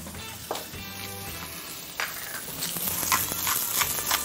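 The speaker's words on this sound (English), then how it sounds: "we're gonna get our chicken hearts and throw them in. Okay, you hear them sizzling away?" Steady sizzling of chicken hearts frying in hot oil, with crackles and pops and a few clinks of a utensil against the pan.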